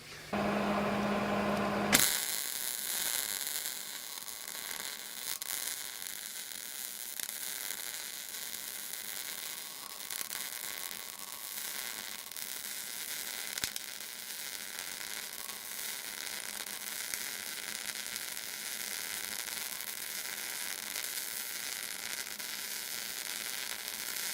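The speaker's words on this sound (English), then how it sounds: "I'm trying not to get in your way while I'm welding" A MIG welder lays a bead across a gap, producing a steady, close crackling buzz that starts abruptly after a brief louder burst and continues evenly to the end.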